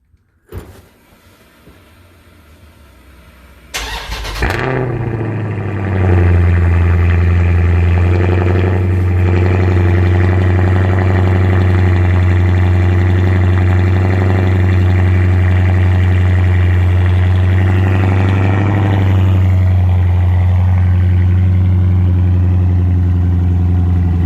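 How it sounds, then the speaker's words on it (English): Car fitted with Carven exhaust tips cold-starting by remote start: a quiet hum, a sharp starter crank, then the engine catching into a loud, steady high idle with a deep exhaust drone that settles slightly. "We're gonna do a remote start to see what the cold start looks like"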